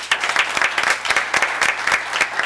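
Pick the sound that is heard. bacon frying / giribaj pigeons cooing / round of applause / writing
round of applause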